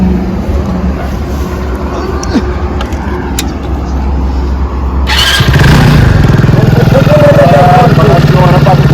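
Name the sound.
motorcycle engine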